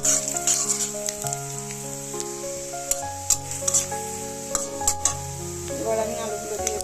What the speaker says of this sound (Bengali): আর একটু কাঁচা জিরে দিয়ে দিলাম, আস্ত গোটা জিরে ফোড়নের জন্য। এটা একটু ভাজা করে নেব।